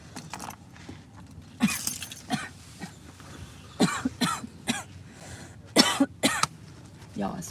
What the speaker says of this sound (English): Why I start coughing halfway through eating?